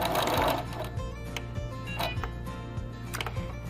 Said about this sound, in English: we are going to backstitch just a couple paces, and then come forward just a couple paces